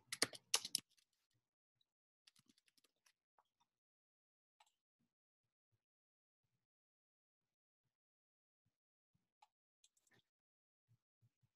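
Keys on a computer keyboard tap out a title, starting with a quick loud cluster of clicks, then sparse faint single taps spread across a quiet stretch.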